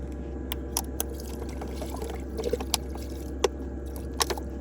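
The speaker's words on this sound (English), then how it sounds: "And then just a dash of water." A dash of water is poured into a pot of chicken soup with thyme, Old Bay and broth while winter camping, making a brief soft liquid pour amid faint clicks and quiet kitchen handling.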